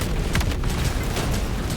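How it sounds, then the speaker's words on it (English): A Hulk's death explosion in Helldivers 2, heard as a loud, continuous roaring rumble with crackling bursts throughout its short span. "run directly away from them, because that way you won't get ragdolled by their death explosion"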